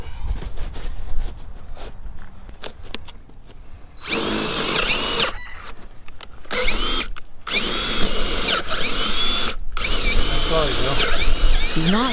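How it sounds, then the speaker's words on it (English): A loud power drill whines in several long bursts, boring big holes for eye bolts between short pauses, with quieter clatter and handling noise before it starts. "Now Ben's drilling big holes to put these eye bolts Lane's got"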